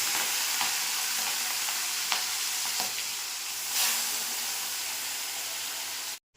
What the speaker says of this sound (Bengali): এগুলো ভেজে নেবো এবার।